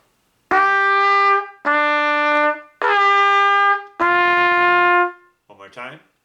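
Trumpet playing four sustained, bright notes in sequence with short gaps between them, loud and close, followed by a brief softer sputter at the end.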